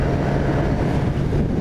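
A 2018 Suzuki GSX-R750 motorcycle runs at road speed, a steady engine drone mixed with strong wind rush around the rider, with no talking.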